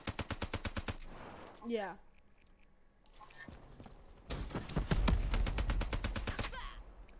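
Rapid automatic gunfire in a video game, a gun compared to the Man of War, loud bursts of evenly spaced shots starting and stopping in stretches, with a brief voice between bursts.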